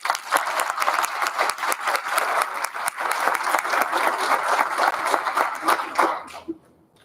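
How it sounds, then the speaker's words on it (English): An audience at a school board meeting gives steady, fairly loud applause for a school play's cast, the claps sharp and continuous before stopping abruptly near the end. "So, round of applause."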